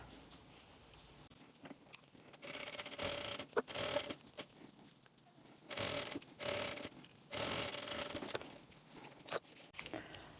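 A sewing machine stitches a finishing seam on a baby's toiletry pouch, bursts of rapid mechanical whirring that start and stop several times, close and fairly loud between quiet pauses.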